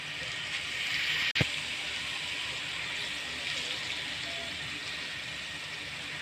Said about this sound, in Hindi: अब इसमें थोड़ा सा पानी डालकर इसको नम कर रख देंगे।